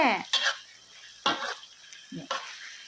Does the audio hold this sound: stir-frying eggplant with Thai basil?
yes